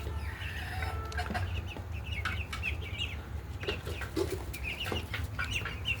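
Farm chickens bought from traders cluck repeatedly in a poultry house: a busy run of overlapping clucks and short calls over a low background hum, with no talking.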